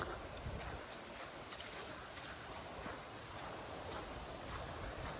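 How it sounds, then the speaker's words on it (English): Steady wind blows outdoors along a tree-lined walking route, a continuous broadband rush with small gusts and no one speaking. "just listen to the wind."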